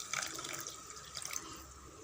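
Tamarind water being poured from a blender jar into a pot of curry, a steady splashing stream of liquid that rises and falls briefly, close and fairly quiet.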